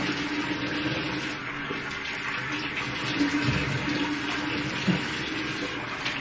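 Running water pours steadily during a rinse, a continuous close wash of splashing that holds at an even level throughout.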